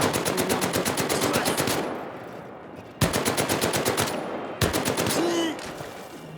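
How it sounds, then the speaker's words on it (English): M1919 machine gun, a stationary mounted weapon, firing in the VR game Medal of Honor: Above and Beyond. Loud, rapid bursts of automatic fire are broken by short pauses, with a brief sweeping tone near the end. "M1919. It's similar to the MG42, but completely stationary."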